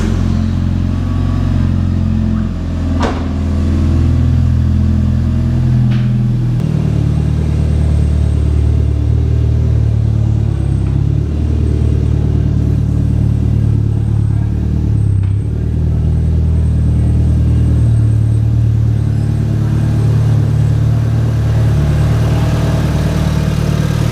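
A Mitsubishi Evo's engine idles and revs as the car is backed out, a loud, close mid-range drone with a few sharp knocks and short throttle blips.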